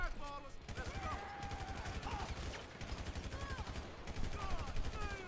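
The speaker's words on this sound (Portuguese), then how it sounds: "Atirando. Aí é legítima defesa, tem que atirar." Rapid bursts of automatic gunfire in GTA 5 crackle in quick repeated volleys, with a pause and then more shooting, while game sounds and faint chatter continue underneath.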